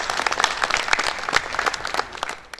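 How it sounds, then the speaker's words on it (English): An audience at an annual assembly of registered quantity surveyors applauds, a loud, dense burst of many hands clapping that thins out toward the end. "A round of applause for the academic."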